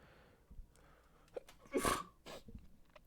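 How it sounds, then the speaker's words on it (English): A single sharp sneeze close by, preceded by a quick intake of breath, with quiet rustling before and after. "Really had to sneeze."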